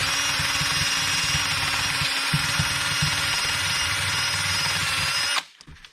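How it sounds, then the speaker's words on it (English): A power drill with a 3-inch wheel runs continuously with a steady high whine and grinding buzz as the wheel scrubs metal on a Mercedes W124 during front wheel bearing replacement, loud and close, then stops abruptly. "I like these 3-inch wheels on the drill"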